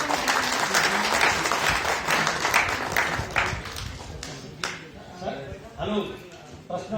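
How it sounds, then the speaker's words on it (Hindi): Applause from a crowd, dense and fairly loud at first, then thinning into scattered claps with a voice talking over it. "आप लोग का स्वागत करें तालियों से"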